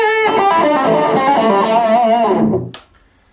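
An electric guitar played through an amp with bluesy, crunchy overdrive rings out as a distorted chord for about two and a half seconds, then is choked off with a short click and silence.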